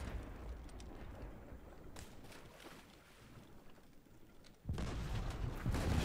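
Ship cannons fire in the pirate naval game Blazing Sails, with heavy booming blasts over wind and sea noise, a loud burst near the end.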